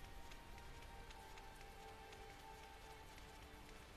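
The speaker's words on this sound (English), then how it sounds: "A lot of rain." Steady rain falls in a gloomy farming village in the video game Tales of Zestiria, a dense, even patter of drops hissing on surfaces throughout, with no speech.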